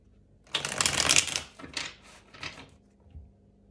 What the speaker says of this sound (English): Okay, I'll do one last shuffle.